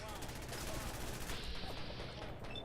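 Gunfire from the video game Fallout 4 crackles in a rapid, dense volley, faint and steady throughout the battle.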